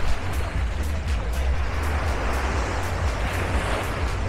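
Winter surf washes onto the beach at Playa del Carmen, a steady broad rush of breaking waves with low wind rumble, continuous and close, with no talking.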